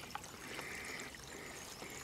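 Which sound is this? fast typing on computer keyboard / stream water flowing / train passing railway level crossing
stream water flowing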